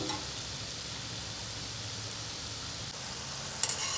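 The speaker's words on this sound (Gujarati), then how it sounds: "હવે આને આપણે ધીમા ગેસ ઉપર ચડવા દઈશું." Gulab jamun balls fry in hot oil over a low flame, giving a steady, soft sizzle with a faint crackle, even and unbroken throughout.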